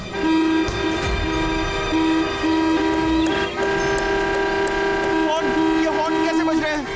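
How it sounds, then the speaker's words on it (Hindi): Several horn blasts sound over a busy background, with long sustained tones breaking off and starting again, loud and close, alongside a voice. "ये हॉर्न कैसे बज रहे हैं?"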